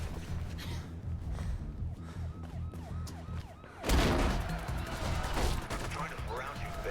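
Gunfire bursts out suddenly and loud in Mirror's Edge, dense crackling shots over wailing police sirens and a busy game soundtrack, following a stretch of music and siren wail.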